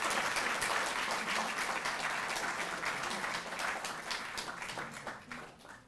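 Applause at a Delhi government honour ceremony for Tokyo Olympics players, loud clapping from a large audience that gradually thins and fades toward the end.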